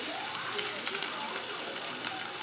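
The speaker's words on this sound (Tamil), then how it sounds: "இஞ்சி பூண்டு பேஸ்ட் போட்டு" Ginger garlic paste hits a hot pan of softened onions for a coconut milk fish curry. A continuous close crackling sizzle runs steadily throughout.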